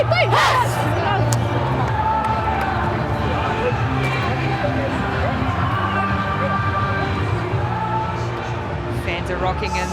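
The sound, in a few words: rugby crowd cheering at Dubai Sevens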